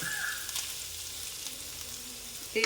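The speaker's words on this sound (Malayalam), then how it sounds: "കുറച്ച് എണ്ണ ഒഴിച്ചിട്ട് പാനിലേക്ക്" Soft, steady sizzle of oil heating in a pan for frying fish, faint and continuous, with a brief clatter at the end.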